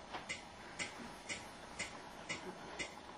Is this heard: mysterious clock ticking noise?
yes